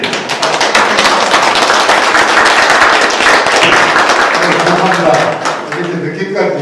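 Audience at a Goryeo celadon academic conference at Donggok Museum bursts into dense, sustained applause. Many hands clap at once, the sound fills the room and fades toward the end.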